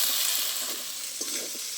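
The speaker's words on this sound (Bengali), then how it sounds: "আদা রসুনটা ভালো করে ভেজে নেবো" Ginger garlic paste frying in a wok, a dense close sizzle with a few soft stirring scrapes over a brief stretch, no voices.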